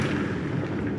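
Confringo spell explosion in Hogwarts Legacy, a dense, continuous roaring blast with heavy low rumble, loud and close throughout the brief moment.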